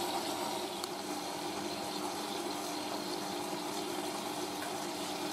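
A Hotpoint 9530W Electronic 1000 Plus washing machine fills with water for a rinse, giving a steady, even rush of inflowing water and pump hum that holds at the same level throughout.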